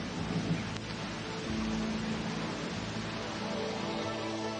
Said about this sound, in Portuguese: Nem mesmo a tempestade que se aproximava.